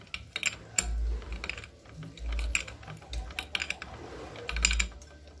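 A Jupiter motorcycle clutch housing is tightened by hand with manual tools, giving close ratcheting clicks and metallic turning in short bursts with brief pauses.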